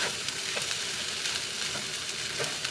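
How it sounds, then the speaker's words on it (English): Shrimp, broccoli and onion are stirred into cold leftover fried rice in a hot pan, giving a continuous loud sizzle broken by a few sharp utensil scrapes. "I mix in my shrimp and that little bit of broccoli in there,"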